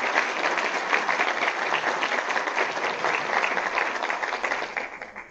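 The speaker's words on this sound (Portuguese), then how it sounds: "Senhoras e senhores, pedimos uma salva de palmas aos participantes do primeiro painel." Audience applause at a Brazilian public-sector accounting and costs seminar for the first panel's participants, a dense steady clapping from a sizable crowd that holds evenly before tapering off at the end.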